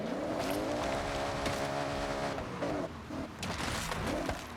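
A car engine drones steadily in the racing game Forza Horizon 6, close and continuous with shifting pitch and a hint of tire noise, no voices.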